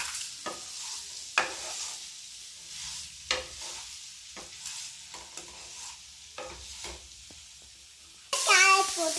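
Tomatoes sautéing in a pan for carrot chutney, with faint sizzling under repeated scrapes and stirs of the spatula, and a louder burst of hissing and clatter near the end.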